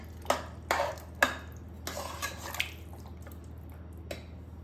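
A spoon or ladle stirs a vegetable curry of brinjal, potato and moong dal vadi with water in a pressure cooker, giving several sharp clacks and scrapes, loud at first, then softer scattered taps against a low steady hum.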